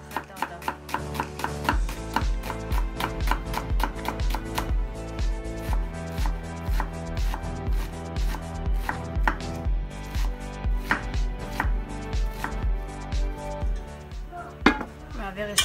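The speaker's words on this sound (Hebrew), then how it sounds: "עכשיו אנחנו נחתוך את הבצל. תשתדלו לחתוך את זה דק, לא עבה" A knife chops an onion thinly on a cutting board in quick, regular taps, close and steady throughout, with a few brief pauses.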